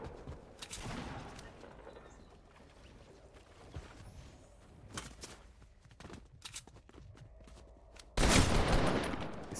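Gunfire in the battle-royale game PUBG: several scattered shots and short bursts at moderate distance, ending in a loud, close volley over a busy background of game sounds.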